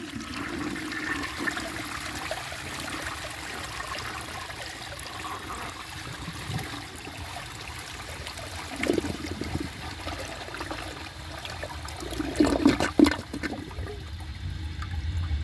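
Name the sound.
flush of a 1968 Montgomery Ward Waco toilet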